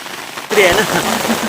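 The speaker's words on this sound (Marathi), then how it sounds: "आला जोरात आला पाऊस तेच तर म्हटलं जोरात येणार आहे पाऊस" Heavy rain suddenly starts pouring down with a dense rushing hiss, and a voice briefly sounds through it.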